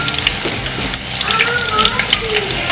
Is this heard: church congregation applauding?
no